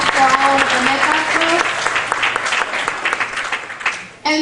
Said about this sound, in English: So a big round of applause for all of the Metas